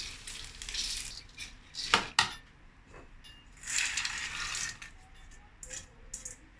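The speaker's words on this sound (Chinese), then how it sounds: "倒入我们的糯米。" Glutinous rice poured into a pan with diced meat and salt, heat switched off: soft rustling, scraping bursts and a sharp clatter near the middle, with no talk over the pouring.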